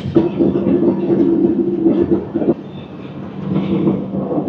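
The Hirakhand Express, train 18447, rolls into the outskirts of Koraput Junction with a loud, steady low rumble of wheels and carriages and a droning hum. The noise dips briefly midway before the rumbling resumes.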